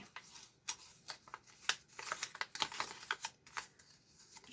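Paper being folded by hand while making a banded tag: quiet, crisp crackles and soft snaps come in irregular bursts, close up, with no talking.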